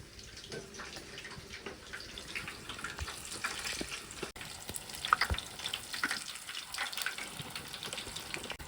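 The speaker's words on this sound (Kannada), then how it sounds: "ಕುದೀತೈತೆ ಕೊತ ಕುದೀತಾ ಇದ್ದಾವೆ" Oil sizzles and bubbles steadily in a pan during home cooking, a dense crackling hiss that stays close and even, with a few louder pops and occasional water-like splashes, with no voices.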